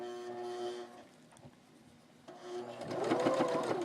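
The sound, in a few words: sewing machine sewing bias trim on a doll skirt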